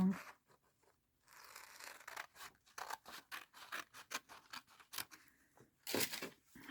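Scissors snipping through paper, a quick series of close, crisp cuts in uneven rhythm with a brief pause early on and a louder burst of snips toward the end.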